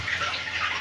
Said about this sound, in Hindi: फिर जब तेल गर्म हो जाए तो इसमें आपको पानी का इस तरह से छोका मारना है